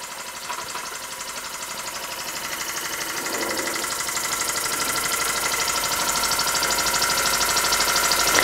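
A Court Lodge MK1 model steam engine runs steadily, a fast, even mechanical chugging and hiss that holds close and grows slightly louder, with no voices.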